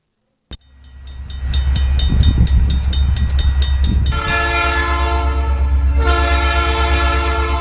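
A train horn blasts loud and close in several long sustained tones over the steady rumble and clatter of the passing train, with no talk.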